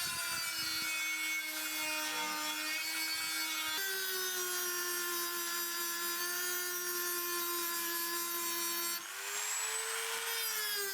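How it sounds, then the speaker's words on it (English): A Dremel rotary tool fitted with a wire brush tip scrubs rust off a part, giving a steady, loud high-pitched whine with a scratchy grinding edge that shifts pitch a few times as the load changes. "in this case a Dremel with a wire brush tip"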